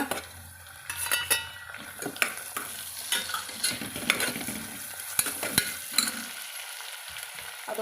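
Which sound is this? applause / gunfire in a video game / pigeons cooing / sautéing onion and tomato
sautéing onion and tomato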